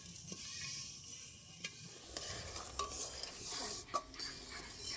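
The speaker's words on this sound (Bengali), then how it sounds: "এবার ভালো করে নেড়ে চেড়ে চিনিটা গলিয়ে নেব।" Sugar and water for jalebi syrup are stirred in a pot, with steady close scraping and clinking of a spoon against metal over a low simmering hiss, no voices.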